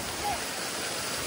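Cold water rushes near a dam in a brief, even hiss of flowing water, close and continuous.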